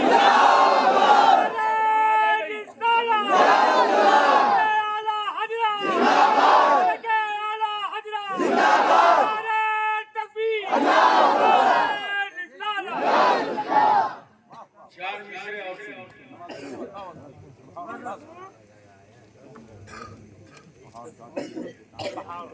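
A large crowd at a religious sermon roars a takbir response in unison, about six loud, drawn-out chanted bursts in a regular rhythm, then fading into quieter murmuring and scattered noise.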